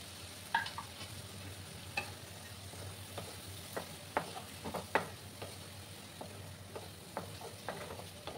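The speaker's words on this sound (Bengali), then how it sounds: "এই যে ভাজা আলুগুলো দিয়ে আবার ভালো করে কষিয়ে নেব।" Fried potatoes being stir-fried with spices in a pan for a boal fish curry, with a faint low sizzle and light, irregular taps and scrapes of a spatula.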